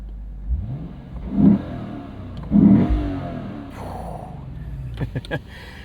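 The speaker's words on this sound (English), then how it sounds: "let's give you a couple of revs so you can listen to this 5-liter naturally aspirated V8" A 2024 Lexus IS 500 sedan's 5-liter naturally aspirated V8 revs up in a few short bursts, rising and falling, moderately loud and close, with quiet idle between blips.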